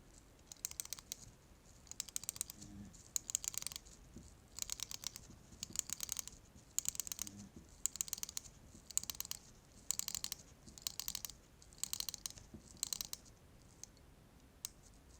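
Rotating bezel on a Seiko SKX007 dive watch turned by hand, producing quick bursts of crisp ratcheting clicks in a regular rhythm, close and fairly quiet, with no talking.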